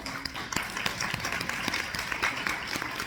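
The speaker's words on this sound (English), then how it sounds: "If I could ask for a round of applause." Audience at a panel event applauding, with a moderate, steady wash of clapping throughout the short stretch.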